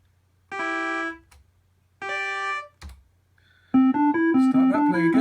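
Two sustained electronic keyboard chords ring out with pauses between, followed by a quicker run of bright synthesized fanfare notes in Sonic Pi, close and clear.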